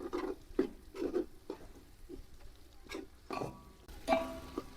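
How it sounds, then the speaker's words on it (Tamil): Tomatoes and spices frying in oil in a pot for chicken biryani, stirred with soft scraping pats and faint sizzling, quiet and close, with no talking. "இந்தா இப்படி கிண்டி விட்டுக்கிட்டே இருக்கணும்."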